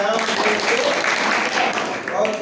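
Classroom applause, a brief burst of steady clapping from students that runs under a voice speaking.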